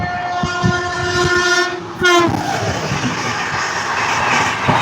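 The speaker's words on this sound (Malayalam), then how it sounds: "ഇതാണ് ഞാൻ ഉദ്ദേശിച്ചത്, ഓപ്പോസിറ്റ് ഒരു ട്രെയിൻ വരുന്നത്" An oncoming train passes close by on a rail journey through rural Madhya Pradesh, its horn blaring loudly before the heavy rumble and clatter of the passing wagons take over.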